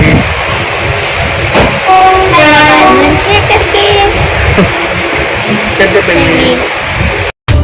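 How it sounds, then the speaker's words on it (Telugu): A train leaving Hyderabad rumbles along loudly with rhythmic rattling and clacking, a horn sounding briefly, and people talking over the noise. "ఇప్పుడే ట్రైన్ కదిలింది హైదరాబాద్ నుంచి"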